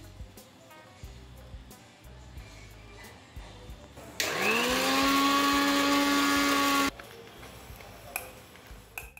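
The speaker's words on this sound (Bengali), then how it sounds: "একটু জিরাটাকেও একটু বেটে নিচ্ছি।" An electric spice grinder whirs loudly for about three seconds, grinding cumin for a marinated mutton dish. A steady high motor whine with a rising pitch starts abruptly and stops sharply, amid quiet kitchen background noise.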